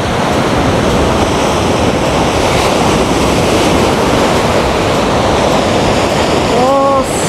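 Strong ocean surf crashes continuously at Guaiúba beach in Guarujá, a loud dense roar of breaking waves mixed with wind buffeting the microphone, close and unbroken throughout.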